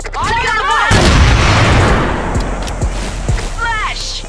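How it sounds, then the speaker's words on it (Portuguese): A loud booming blast from a flashbang grenade in the shooter game CrossFire rolls out and decays over a couple of seconds, with short voiced callouts just before and after it. "Flashbang!"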